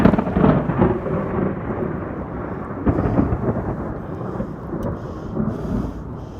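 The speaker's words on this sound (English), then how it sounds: "That was definitely lightning." Close thunder rumbling through a thunderstorm on a hiking trail, a heavy low roll that swells and fades over several seconds, with rain faintly audible underneath.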